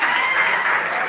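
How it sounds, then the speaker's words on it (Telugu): Audience applause at a motivational talk, a dense, even wash of many hands clapping at once, fairly loud and steady with no gaps over a very short stretch. "సార్కోసారి గట్టిగా క్లాప్స్ ఇవ్వండి"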